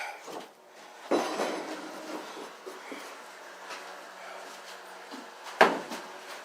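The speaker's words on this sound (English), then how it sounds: "Open the door." A wooden door on a backyard shed opens with a sharp knock and rattle, followed by scattered creaks and handling noises, then a second louder bang near the end.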